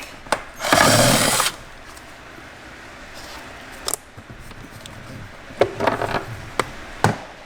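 A 10 mm bolt being removed to take off the dead pedal in an NC Miata, with a short burst of power-tool whirring followed by scattered metallic clicks and handling knocks up close.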